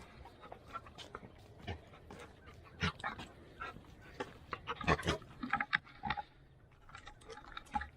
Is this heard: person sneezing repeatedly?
no